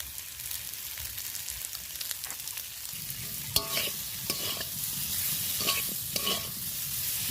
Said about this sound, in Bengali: ভালো করে কষিয়ে নেব দেখো কেমন কষানো হয়েছে